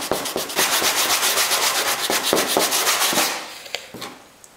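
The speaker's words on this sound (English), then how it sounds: "I'll blend it in with some finer sandpaper" A fiberglass panel repair is sanded by hand with fine sandpaper in close, brisk back-and-forth strokes that keep a steady rhythm and then slow to a few light final rubs.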